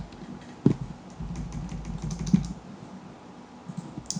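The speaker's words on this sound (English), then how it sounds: "you can actually just type directly into these boxes here in the template provided" Fingers type on a computer keyboard in a steady run of soft, close clicks with a couple of sharper key hits, with no talking.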